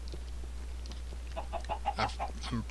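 Chicken clucks from the Minecraft video game, a short series of soft, evenly spaced bursts that grow slightly louder toward the end, heard alone over a steady low hum.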